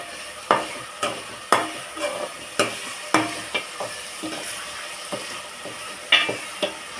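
A spatula scrapes and stirs food frying in a pan, with regular sharp scraping strokes about twice a second over a soft background sizzle, close and fairly loud, with no talking.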